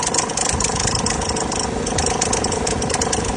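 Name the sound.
car engine noise from faulty starter Bendix with AC on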